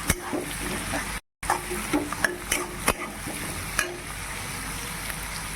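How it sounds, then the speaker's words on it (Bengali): Potatoes frying in oil with spices for a mutton curry, stirred in the pan: a steady sizzle broken by repeated scraping strokes of the spoon and a brief moment of silence. "এবার এর মধ্যে আলুটা অ্যাড করলাম, ওটা দিয়ে দিচ্ছি। এবার এটাকে ভালো করে মিক্স করে দিচ্ছি।"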